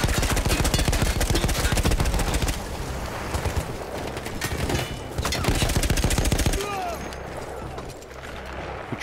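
A mounted machine gun in the Battlefield 1 video game fires long rapid bursts, loud and close, with a brief pause midway and mechanical clatter, then fades into quieter battlefield noise toward the end.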